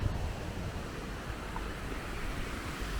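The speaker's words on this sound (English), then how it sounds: "I can hear some water as well." A steady, soft rush of flowing water in Greenfield Valley, North Wales, continuous and fairly distant, with no voices.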